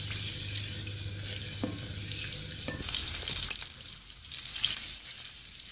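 Onions sizzle and fry steadily in a pan for a macaroni dish, a continuous bright hiss with occasional stirring scrapes and clinks, close and loud with no talking.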